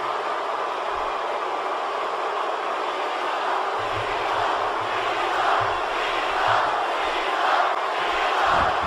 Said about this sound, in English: And this crowd here, man, very pro Cena here.